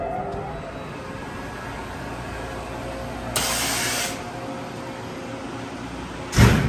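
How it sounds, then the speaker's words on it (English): A 15 kW, 20 horsepower, 290 psi laser-rated air compressor with a built-in dryer runs as a steady, moderate machine drone, with two short bursts of air hiss breaking through partway along and again near the end. "15 kilowatt 20 horsepower 20 bar or 290 psi laser rated air compressor"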